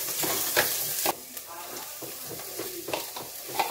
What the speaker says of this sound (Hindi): तेल गर्म हो गया है, इसमें हम बारी बारी ये सब्जियां डालेंगे